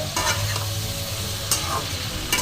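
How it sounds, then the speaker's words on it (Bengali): Grated ginger is stir-fried for chilli chicken, a close, steady sizzle in hot oil broken by a few sharp scraping stirs, with no talking. "এবার খুব সুন্দর করে আমি নাড়াচাড়া করে একটু ভেজে নেব"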